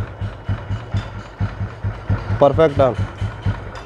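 A Royal Enfield motorcycle idles after a spark plug fix, its engine thumping in an even, steady close beat without misfires, while someone speaks briefly over it.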